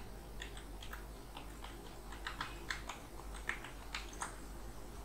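Keys clatter on a computer keyboard while text is typed into Microsoft Word 2016, a faint, uneven run of soft clicks over a low steady hum, with no voices.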